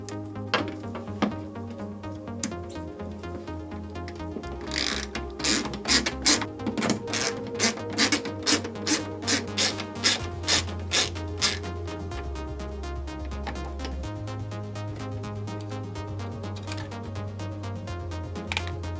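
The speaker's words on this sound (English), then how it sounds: "you want to use a 5/16 socket to remove the nuts holding the Prox Card" A 5/16 socket ratchet backs nuts off a prox card reader on a Smart Station: a rapid run of close, regular metallic clicks, then lighter ticking over steady background music.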